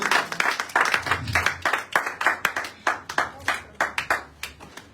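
A church congregation claps along in a steady, rapid rhythm during a worship service, the loud hand claps ringing out one after another over a faint background of singing or music.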